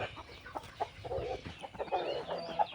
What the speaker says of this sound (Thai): ไก่ก็หลายตัวอยู่ แต่ออกไปหากินข้างนอก